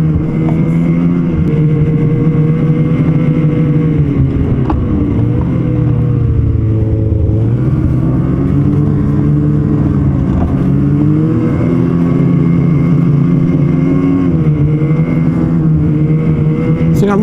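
A snowmobile engine drones steadily and loudly throughout a trail ride toward Baysville, its pitch rising and falling slightly with throttle, close and continuous with no gaps.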